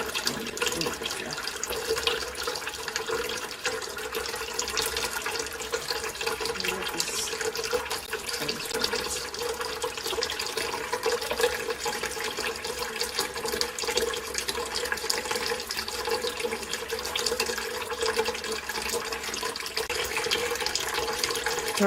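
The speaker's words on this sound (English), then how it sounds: "So our prints have been rinsing for a couple of minutes now" Tap water runs steadily into a sink where cyanotype prints are being rinsed, a continuous broadband splashing hiss that stays even and close for the whole stretch, with no speech.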